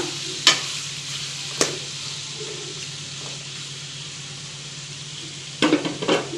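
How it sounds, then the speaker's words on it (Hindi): Chicken frying over high heat in a kadai, a steady close sizzle and hiss with a few sharp clinks of a utensil against the pan, loud and without speech. "अभी चिकन फ्राई होगा।"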